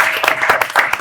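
Brief burst of audience clapping after a talk-show panel on women in business, dense hand claps at close range filling the whole moment.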